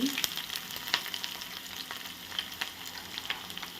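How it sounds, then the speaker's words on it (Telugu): Mustard seeds, cumin, dals and green chili fry in hot oil with a steady, close sizzle and scattered small pops and stirring scrapes, and no voices. "ఆవాలు జీలకర్ర పప్పులు అవన్నీ వేసుకోవాలన్నమాట దాంట్లో వెంటనే పచ్చిమిర్చి"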